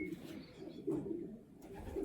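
A yearling racing pigeon hen coos softly in a basket during basketing for a race, low rounded coos repeating steadily at close range with a faint bird chirp in the background.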